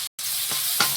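Chopped onion hitting hot oil in a pan for a duck curry, a steady loud frying sizzle after a brief gap, with a couple of stirring swells, no talk.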